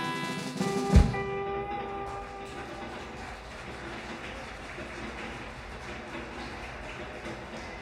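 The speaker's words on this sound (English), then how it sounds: "Train sound effects." Rumbling train sound effects play at a live 75th-birthday music show, a broad steady rolling noise after a brief sharp burst at the start, fairly loud throughout with no talk.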